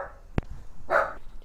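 A dog brought along on a trip to London gives two short, sharp barks close by, with a muffled whine in between.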